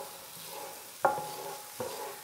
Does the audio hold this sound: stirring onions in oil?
yes